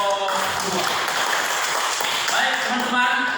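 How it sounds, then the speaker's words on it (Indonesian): A classroom group claps for group 2, a brief ripple of light applause mixed with talking voices throughout. "tepuk tangan untuk kelompok 2"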